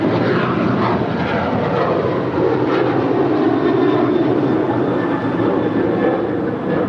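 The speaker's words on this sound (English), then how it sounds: "I believe that was United 1276 departing to Cancun, a 737-900ER." A United Boeing 737-900ER climbs out on departure to Cancun, a loud, continuous engine roar with a broad rushing wash that swells slightly in the middle and stays steady to the end.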